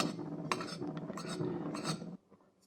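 Homemade pizza dough ingredients are mixed in a bowl, with a utensil scraping and clinking against the sides in quick uneven strokes, close and fairly quiet, ending abruptly.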